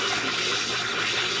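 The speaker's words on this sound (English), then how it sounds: "Just keep spritzing our water tank at him" Water sprays continuously from the water tank in Super Mario Sunshine at Bianco Hills, a steady, loud, broadband hiss with no pauses and no talking.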